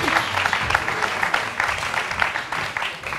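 A studio audience on a French-language television game show breaks into applause, a dense patter of many hands clapping with a slightly pulsing rhythm, close and steady for a few seconds.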